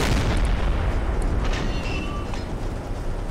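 A submarine deck gun firing in the naval game Silent Hunter 3, a deep booming report at the start followed by a low rumbling roar of sea and wind that fades slowly.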